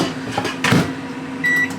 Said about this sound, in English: Then I'm going to stick it in the microwave.